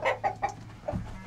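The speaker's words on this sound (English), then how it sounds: "Ah, growling chickens. Could mean eggs." Hens in a nest box give low, growling clucks, several short close grumbling calls in quick succession, alone with no speech.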